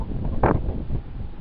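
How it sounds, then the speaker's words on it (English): Wind blows outdoors around a chicken coop, a low, steady rumble with a brief gusty swell partway through. "It is windy out"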